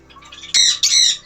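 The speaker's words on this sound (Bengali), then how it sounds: "চলুন আমরা এক এক করে পাখিগুলো দেখে নিই" Exotic birds at a bird farm squawk loudly and close by: two harsh, piercing calls come one after the other, following a few softer chirps.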